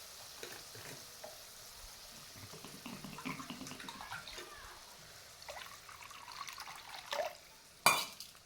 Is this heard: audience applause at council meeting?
no